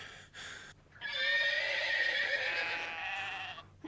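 A horse gives a long, loud whinny close by, its wavering cry rising and trailing off over a few seconds after a couple of brief softer sounds, with no talk.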